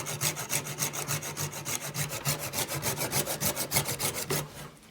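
Fatwood is cut with a hand saw over a pan, producing a fast, even run of close rasping strokes, roughly four or five per second, loud and steady before stopping abruptly, with no talk.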